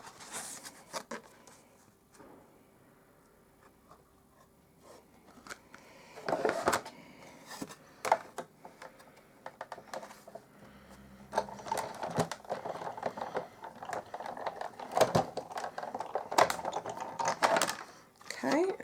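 A die cutting and embossing machine is cranked through with card, giving quiet mechanical whirring and clunks that build in the second half, with a few sharp knocks and handling noises nearby.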